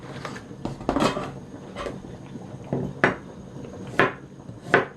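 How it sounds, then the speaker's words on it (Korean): Knife slicing fresh ginger on a cutting board, a series of irregular close thuds and taps of the blade striking wood, fairly soft, with short pauses between cuts. "우선 생강청을 만들기 위한 이 생강을 한번 썰어 보도록 할게요."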